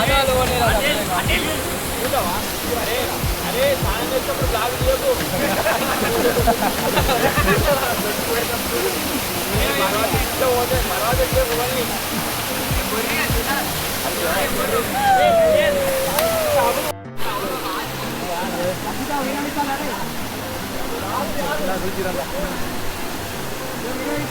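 Kumbakkarai Falls in Tamil Nadu roars in a constant, loud wash of rushing water, with people talking intermittently over it and a brief dropout near the end.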